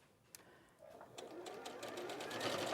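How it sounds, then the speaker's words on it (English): A sewing machine stitches fabric across gathered elastic on a dress, starting with a faint click and then a close, steady mechanical whir that builds and runs continuously. "Foot down. Sew those across."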